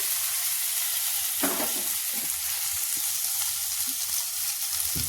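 Ginger-garlic paste and onions sizzle steadily in a hot pan while being stirred, a constant loud frying hiss with soft scraping and clinks of the spoon at intervals.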